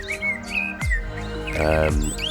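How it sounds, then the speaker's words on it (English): A blackbird sings near a golf tee, clear and close, with fluting whistled phrases and quick chirps rising and falling over a couple of seconds, no voices. "Beautiful blackbird singing off the tee, it was absolutely superb."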